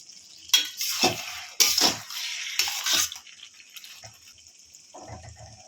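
Slit green chillies drop into a pan of bottle gourd curry with bhetki fish head, with three clattering, sizzling bursts of spoon and pan noise, then quieter simmering.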